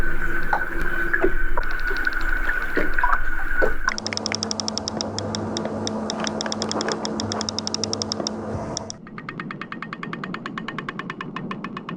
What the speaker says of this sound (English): we got some kind of vague clicking sound